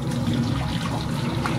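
Water pours and trickles steadily out of boiled grated potato being drained through a steamer pot, a continuous close splashing wash with no talk.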